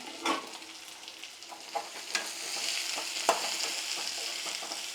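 Vegetables for a vegetable bassaru sizzling and frying in a pan, a soft continuous crackle with occasional scraping stirs, fairly quiet and close, with no voices.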